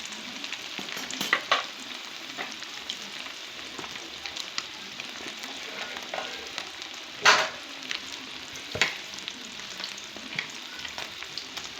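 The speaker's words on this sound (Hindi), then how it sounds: "इसी तरह से आराम आराम से आप फ़िश बना सकते हैं, फ्राई कर सकते हैं।" Masala fish pieces frying in hot oil, Lahori restaurant-style fish fry, give a steady crackling sizzle throughout with a few sharper pops and spatters near the end.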